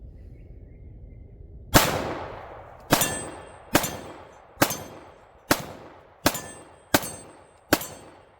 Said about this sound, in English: that 230 grain ball absolutely rocks that steel